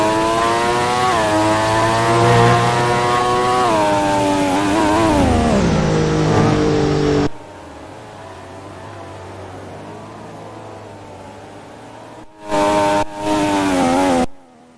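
Race car engines in a Malaysian Grand Prix racing video game: a loud, close engine whine that shifts pitch as it revs, drops away to a quieter drone, then two short loud bursts return near the end.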